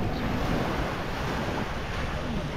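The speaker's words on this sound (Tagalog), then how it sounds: "nandito na tayo sa dagat" Sea waves wash steadily onto a shore in a continuous broadband roar, with wind buffeting the microphone throughout and no voices present.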